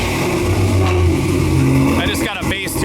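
An LS3 V8 with an aggressive cam and Flowmaster bullet mufflers idles loud and lumpy, then revs briefly near the end with a rising, choppy exhaust note.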